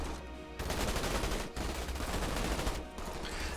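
Sustained heavy gunfire and automatic fusillades in the Starship Troopers real-time strategy game, loud and dense throughout with two brief dips, no talk.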